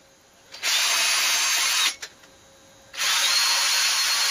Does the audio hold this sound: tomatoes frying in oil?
no